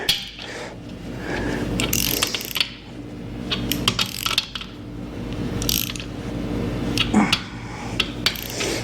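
Ratchet clicking repeatedly while main bearing cap bolts on a GM 8.0 engine block are drawn down evenly, close and clear with metallic pawl ticks and occasional tool clatter, no talking.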